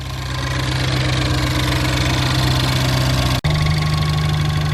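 Ford Fiesta ST engine idling on first startup, a loud close steady mechanical drone with a brief cut-out dip near the end before the idle resumes slightly higher.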